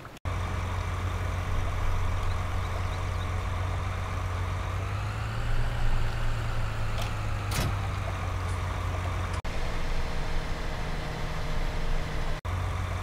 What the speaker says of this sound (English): the autonomous tractor removes itself from the trailer, connects up, and then does its thing